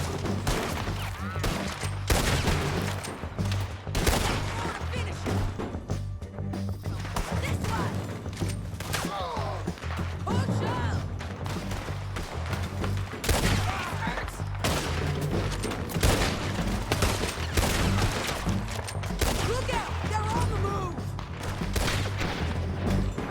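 Gunfire in a video game crackles in rapid, repeated shots across a long stretch, with steady bursts over a low rumbling backdrop and someone speaking now and then over the shooting.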